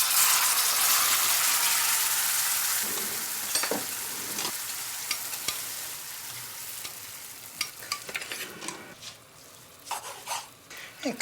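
Garlic chunks fry in olive oil with a loud, dense sizzle for the first few seconds. The sizzle then thins to a quieter crackle broken by sharp spatters and the scrape of stirring.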